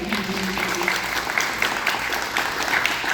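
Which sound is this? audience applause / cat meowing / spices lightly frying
audience applause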